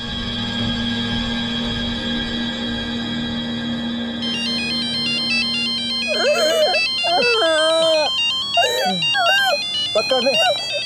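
A telephone ringtone starts partway through and repeats in a steady electronic trill over a low background hum, with people talking loudly over the later rings.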